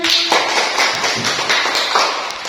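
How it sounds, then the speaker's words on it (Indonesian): Hands clap in a quick, even run of sharp taps, close and fairly loud, with only a faint room background and no talk. "Tepuk tangan."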